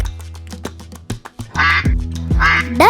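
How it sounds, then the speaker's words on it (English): A domestic duck quacks in a series of loud, close, nasal calls, with a steady low hum beneath and two bursts of harsher, rapid quacking. "Duck."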